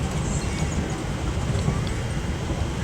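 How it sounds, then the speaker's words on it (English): A passing commuter train rumbles steadily past an Amtrak train in New Jersey near New York City, a continuous broadband roar with low-end rumble that holds at a fairly even, close level throughout. "another commuter train going by"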